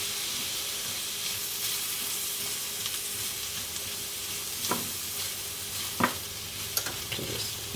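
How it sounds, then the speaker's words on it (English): Mushrooms frying in olive oil over very low heat beside rice pushed to one side, giving a steady soft hiss with a few sharp scrapes of stirring near the end, no one talking. "Mix that oil into the mushrooms because they do soak up a lot."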